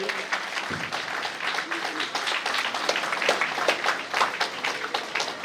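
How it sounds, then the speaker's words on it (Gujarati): Audience applause welcoming a guest at a Swaminarayan community food-kit distribution event in Ahmedabad, a dense, steady crowd clapping that fills the whole stretch at moderate loudness, with a voice briefly heard at the start. "તો અંકિતભાઈ આપણે સૌ જોરદાર તાળીઓથી વધાવીએ"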